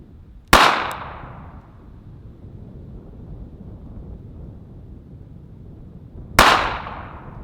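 Two loud, sharp pistol shots crack several seconds apart at an outdoor shooting range, each followed by a short decaying echo over quiet wind noise.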